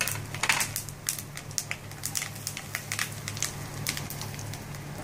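Mustard seeds spluttering and popping in hot oil for mango thokku pickle, a series of sharp irregular crackles and pops over a low background hum, with no voices.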